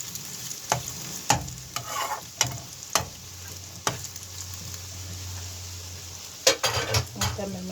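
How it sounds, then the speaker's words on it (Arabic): Eggs fry in a pan while a utensil scrapes and taps against it in sharp, irregular strokes, with a soft sizzle running steadily underneath between the knocks. "نقلب البيض"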